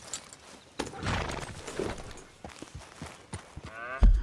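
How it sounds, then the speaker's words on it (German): Cattle moo on a farm in Red Dead Redemption 2, a few low drawn-out lowing calls at moderate distance, with hoof clops, horse sounds and faint ambient rustle between them. "Gehen wir mal zum Kühe melken"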